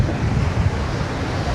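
Freshwater waves wash onto a clean Great Lake beach in a steady, fairly loud roar, mixed with buffeting wind, with no talk.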